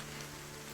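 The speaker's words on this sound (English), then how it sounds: "Seems we can't escape the rain no matter where we go." Rain falls steadily in the video game Sel Mounta, a soft, continuous hiss of drops on surfaces with a faint low hum beneath, with no voices.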